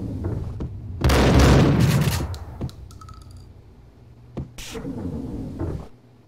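Shotguns firing in Max Payne, heavy booming blasts with one loud, long roaring shot and a later sharp report, mixed with game clicks and clatter and no speech.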